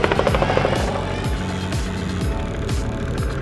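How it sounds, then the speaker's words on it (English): Helicopter flying low over a group of cars, its rotor chop pulsing rapidly and loudly near the microphone alongside a whining engine, with brief bursts of motor noise. "Helicopter middle of cars."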